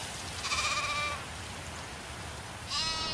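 A sheep gives two wavering bleats, one long call early on and a second starting near the end, set against a quiet outdoor background with no talking.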